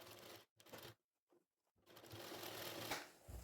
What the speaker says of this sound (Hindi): और इसके ऊपर से ऐसे सिलाई चलाते हैं